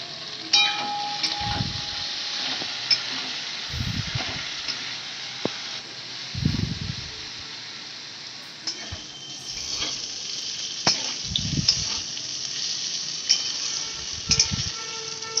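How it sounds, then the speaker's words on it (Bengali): Cut potatoes frying in hot oil in a pan, with a light dusting of turmeric, give a steady close sizzle and hiss, broken by several louder bursts of stirring and bubbling. "তেলটা গরম হলে আগে থাকতে কেটে রাখা আলুগুলো দিয়ে একটু ভেজে নেব।"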